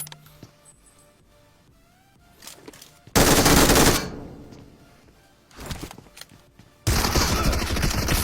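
MG3 machine gun fire in a battle royale video game, heard as loud sustained bursts around the middle and again at the end, with quieter game sounds in between and no talk.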